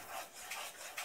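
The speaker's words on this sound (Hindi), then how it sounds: "ये अच्छे से हम इसमें चमचा चला रहे हैं" Spoon scraping and stirring chana dal halwa with melting sugar in a pan over a medium flame, a close continuous gritty rasping in soft sweeps.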